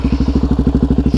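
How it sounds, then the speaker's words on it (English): A Suzuki DRZ SM motorcycle with an MRD Racing exhaust idles loudly at the roadside, its single-cylinder exhaust thumping in a fast, even pulse heard up close right behind the pipe. "We'll test out how loud this exhaust is."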